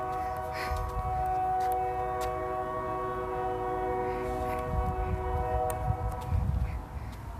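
A passing train sounds a long, steady horn blast with a low rumble of the train beneath, growing rougher toward the end.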